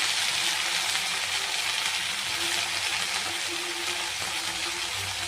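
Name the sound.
fenugreek greens added to frying garlic in pan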